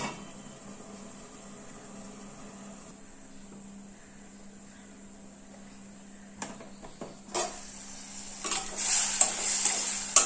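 Tomato masala for a drumstick and egg curry gets stirred in a pan. A quiet, low hum gives way to sharp spoon scrapes and clinks against the pan, getting louder and busier toward the end.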